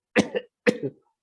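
Two short, dry coughs from a person, close and clear, with a brief pause between them and no talking.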